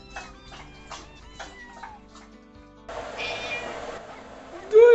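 A cat meows at the end, a short rising cry after some quiet rustling and brief noisy movement.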